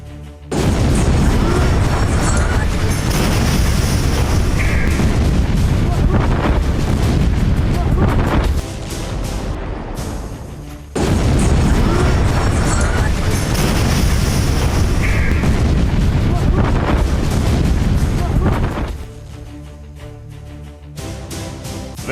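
Explosions in Beirut, heard as loud rumbling blasts with sustained roaring and debris noise, repeated in two long bursts, harsh and close, with a voice speaking in between.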